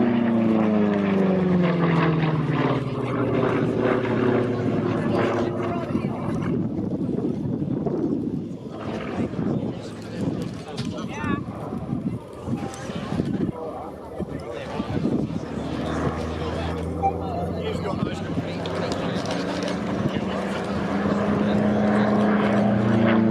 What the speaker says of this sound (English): running back in the P-47D Thunderbolt